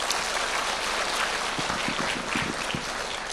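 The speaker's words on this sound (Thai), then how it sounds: "ขอเสียงปรบมือกับพระวิญญาณบริสุทธิ์นะครับ" A church congregation claps at moderate level, a broad wash of applause with a few sharper individual claps standing out, no voices over it.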